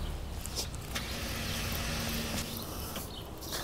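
A steady mechanical whir of a winch winding a strap onto its drum, with a faint whine running underneath, close and continuous.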